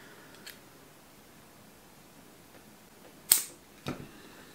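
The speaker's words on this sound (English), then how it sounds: "So grab your scissors, cut the tags on both of those," Scissors snip the tag ends of fishing line while rigging, two sharp close clicks in quick succession after a faint earlier tick, in a quiet setting.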